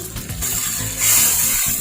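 About two tablespoons of water are poured into tomato masala frying in oil in a kadai for chana dal fry, giving a loud hiss and sizzle that swells as the water hits the pan.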